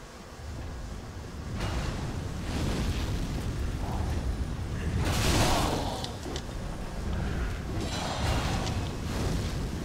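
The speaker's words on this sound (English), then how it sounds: "Oh god, so much fire." Video game fire effects from a Flaming Monk build, a continuous roaring, rushing whoosh of flames with bursts swelling louder in the middle, with no talk.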